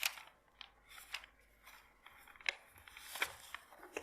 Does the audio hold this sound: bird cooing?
no